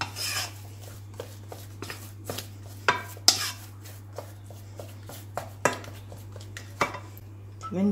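A wooden spoon stirs an egg into a thick mixture in a pot, a quiet series of irregular soft scrapes and knocks against the pot under a low steady hum.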